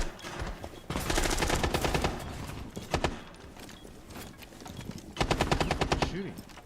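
Gunfire in a tactical shooter video game, with rapid automatic bursts of shots in several loud volleys, brief pauses between them, and a voice speaking over parts of the action.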